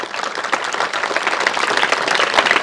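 Audience at a youth climate change conference clapping together, a dense patter of many hands that stays fairly steady and loud from start to finish.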